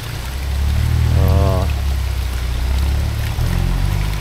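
Drinking water running from a mountain spring in Mankayan, a steady loud pouring rush of water close by, with a brief tonal sound partway through and faint voices in the background.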